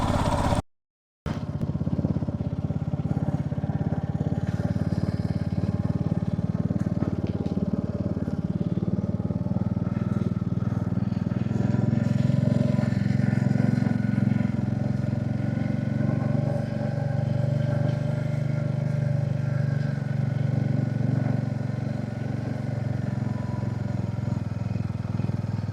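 A motorcycle rides a hilly road at Kaude Lek in Palpa, its steady engine drone close and continuous for the whole stretch, with a brief dropout right at the start and no talk over it.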